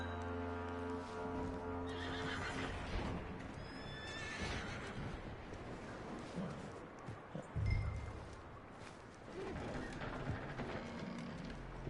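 Horse whinnying in Red Dead Redemption 2, a loud drawn-out neigh early on amid hoof clip-clops and ambient game sound, no talk.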